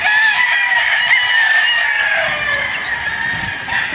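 Gamecocks of the NUDC bloodline crow repeatedly in a farm yard, several roosters overlapping with bright, drawn-out calls, close and loud over a steady background of clucking and chatter from other fowl.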